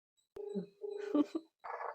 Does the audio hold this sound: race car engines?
no